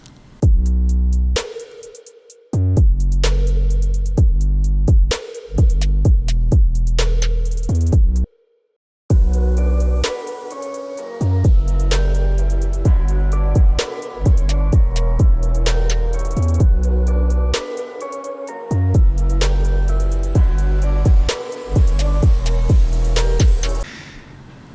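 An electronic music intro from the track plays with a pitched snare and deep 808 bass in a steady groove, loud and full, with a brief drop to silence midway before the beat returns.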